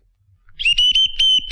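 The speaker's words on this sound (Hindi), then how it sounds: "इसकी तो सीटी बच गई है।" A shrill, sustained whistle blast from a comedy film scene, starting after a brief quiet lead-in and warbling loudly in several pulses, with no talk over it.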